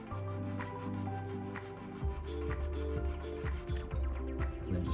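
A sanding stick scrapes back and forth across a nearly finished paint surface in steady rasping strokes, close and moderately loud, with a faint tonal hum underneath.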